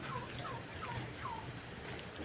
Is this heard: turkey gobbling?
yes